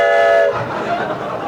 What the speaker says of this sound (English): It's a train, Elizabeth!